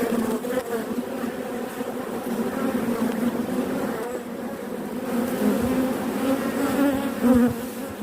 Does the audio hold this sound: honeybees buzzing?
yes